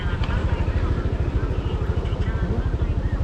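Motorbike taxi engine in Canggu, Bali, a close, loud, rhythmic low putter running steadily as the rider waits.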